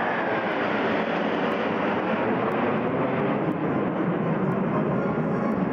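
A formation of two F-16 fighter jets and an F-35 Lightning II roars overhead during a military parade, a loud, steady, broadband jet rumble sustained throughout with no pause.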